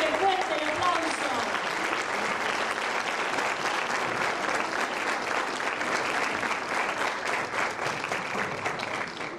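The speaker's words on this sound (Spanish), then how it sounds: "Así que fuerte el aplauso." Sustained audience applause fills a university graduation ceremony in a large hall, loud and steady from start to finish, with a brief voice heard at the very beginning.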